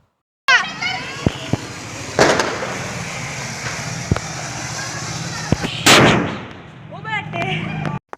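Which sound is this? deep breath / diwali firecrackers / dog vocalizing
diwali firecrackers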